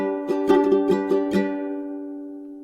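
Ukulele plucked at real-time tempo, a run of about six quick single-string notes on the fourth string ringing over a sustained chord, then decaying for over a second; close, clean and alone.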